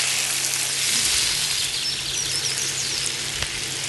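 A pan of chicken fried rice ingredients fries with a steady, loud sizzle that crackles evenly throughout, with a faint knock near the end and no talking.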